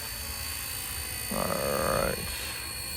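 A small RC Era C032 UH-1 model helicopter on auto landing, with a steady electric rotor whine throughout and a brief louder rise in pitch and level in the middle before settling back.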